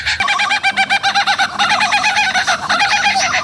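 A zoo bird, likely a mimic, gives rapid, repeated harsh calls in quick pulsing bursts, loud and close, continuing for several seconds with no talk.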